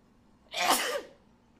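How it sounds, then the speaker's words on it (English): One sharp, close human sneeze bursts out suddenly in a quiet room and fades within about half a second, with no talking around it. "I've been sneezing all fucking day and I don't know why"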